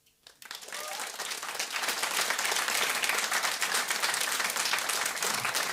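An audience at a talk on hip hop and social change breaks into applause, the clapping swelling quickly from silence into a loud, sustained, even roar of many hands.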